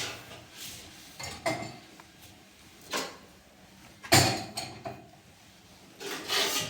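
Glasses and spoons are set into the racks of an IFB dishwasher, producing scattered nearby clinks and scraping knocks of cutlery and glassware at an irregular pace, with no talking.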